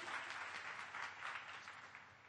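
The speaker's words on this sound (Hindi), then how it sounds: "ताली बजा दो." Audience applause in a hall during a sermon or preaching talk, steady and fairly loud clapping sustained throughout and fading slightly near the end, with no voices over it.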